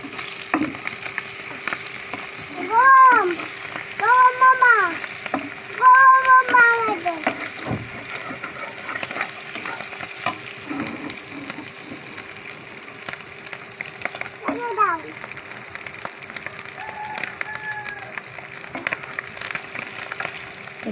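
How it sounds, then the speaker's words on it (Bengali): Garlic and shrimp frying in a pan as a tempering, a steady sizzle running throughout with a few brief tonal sounds rising above it, with no talking. "রসুন, চিংড়ি মাছ এটার সাথে অ্যাড করে দিব। এটা ফোড়নের মতো কাজ করবে।"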